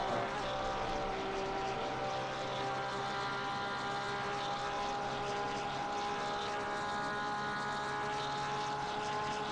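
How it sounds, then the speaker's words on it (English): A Porsche race car engine in a racing video game at Spa holds a steady, droning whine with layered tones at an even pitch, with no talking. "So you've got the sound of a Porsche just revving in your ears now."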